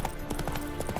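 Hooves of Roach, the horse in The Witcher 3, clip-clopping at a steady walking pace, a continuous run of close, even footfalls over a low ambient bed.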